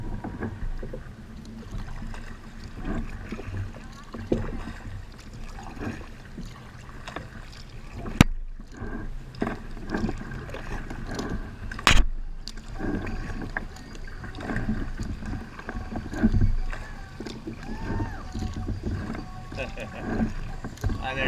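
Kayak paddling downstream into the wind on the Chipola River, with steady rushing wind noise and soft water sounds under intermittent talk, broken by a couple of sharp knocks.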